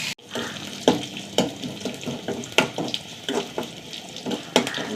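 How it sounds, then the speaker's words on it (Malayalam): Onions frying in a pan for a curry, with curry leaves, give a steady sizzle broken by repeated scrapes and clinks of a stirring spoon against the pan, close up and with no talking. "നന്നായി മൂത്ത് വരട്ടുള്ളി"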